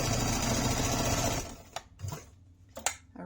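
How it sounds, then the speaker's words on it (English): A sewing machine back stitches over a keychain on a water bottle sling, running in a loud, steady whir for about a second and a half, then stopping, followed by a few faint clicks and handling noises. "I back stitched over it just to give it a little bit more strength"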